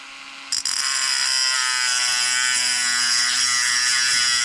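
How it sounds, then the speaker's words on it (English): A small power grinder works over lumpy solder on a Dietz Junior 20 lamp, switching on after a brief pause into a loud, continuous high whine with a buzzing edge, close and steady. "I'm just going to do a little grinding work where these lumpy solder bits are."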